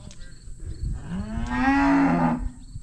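Cattle low in a single long, loud moo close by, rising then falling, while calves are being rounded up on a farm.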